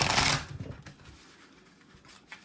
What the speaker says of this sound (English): I'm just gonna shuffle one last time.